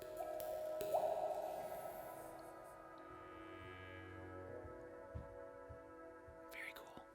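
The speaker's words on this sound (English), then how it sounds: "A little dripping of water." Water drips within a studio recording of a progressive rock song, sounding as soft plinks against sustained tones and ambience, with voices talking quietly over the mix.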